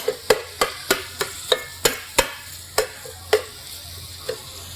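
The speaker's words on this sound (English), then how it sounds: "as it starts to cook, you want to start just chopping your chicken, and it'll shred apart" Chicken and cheese quesadilla filling being chopped in a frying pan, a dozen sharp irregular taps of the utensil against the pan over a soft steady sizzle, close up, with no talking.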